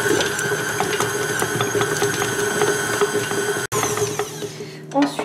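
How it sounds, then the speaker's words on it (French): An electric whisk beats butter for red fruit cupcakes with a close, steady mechanical whir that cuts out for an instant partway through and then carries on. "je vais d'abord commencer par fouetter le beurre"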